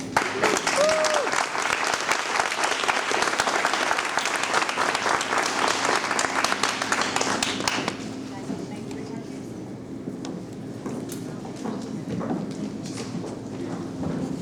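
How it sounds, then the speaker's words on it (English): Audience applauding inducted students at an honor society ceremony, dense clapping for about eight seconds before it drops to quiet room noise with faint talk. "These students deserve a great big round of applause"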